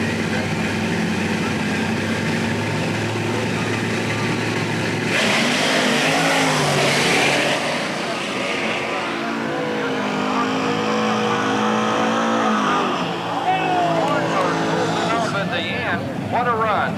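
A small Studebaker truck makes a drag racing run at Centerville Dragway, its engine roaring loudly and surging as it launches, the pitch climbing through the gears under crowd and announcer noise.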